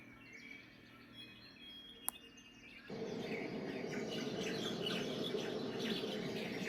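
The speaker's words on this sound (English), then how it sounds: "I had it on the birds chirping" Soft, steady chirping of birds from a wake-up light diffuser's alarm sound, with a faint insect-like buzz, growing fuller and louder partway through and continuing evenly to the end.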